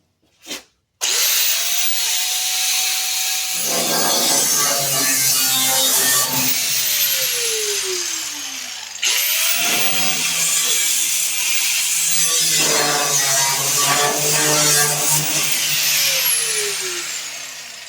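Power cutting tool trimming excess metal on a 1949 Willys pickup, two long loud grinding passes with the pitch dropping as the blade bites in, separated by a short pause.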